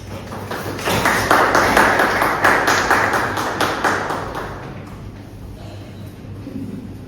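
A seminar audience on the ethics and legality of artificial intelligence in law enforcement gives a short round of applause to welcome the speakers. The clapping is dense and steady, then thins and fades after about five seconds.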